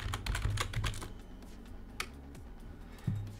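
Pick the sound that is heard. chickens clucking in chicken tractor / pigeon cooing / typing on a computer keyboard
typing on a computer keyboard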